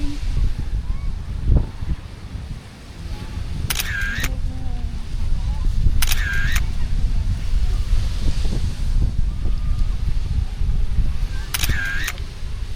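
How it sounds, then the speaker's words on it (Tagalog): Steady gusty wind at an outing in Batangas roars across the microphone throughout, low and buffeting, with a few brief high-pitched electronic beeps rising above it. "Lakas ng hangin."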